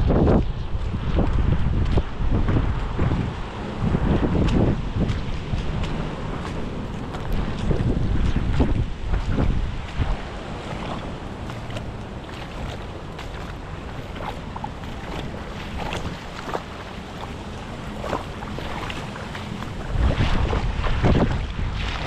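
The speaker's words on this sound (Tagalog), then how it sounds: "Umuulan na ulit." Heavy typhoon rain driven by strong wind, a dense continuous roar with gusts buffeting the microphone, loud and unbroken throughout.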